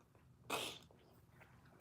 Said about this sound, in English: So, y'all, I'm about to sneeze.